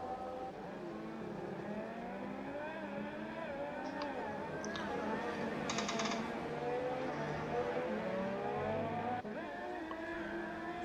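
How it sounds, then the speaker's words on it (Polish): Formula racing cars with electrically boosted turbocharged V6 engines whine and drone continuously in a video game qualifying session at the Mexican Grand Prix, rising and falling in pitch as cars pass, with a steady roar, no clear talk. "Piękne są te dźwięki tych bolidów, fantastyczne V6 z silnikiem jeszcze doładowanym elektrycznie"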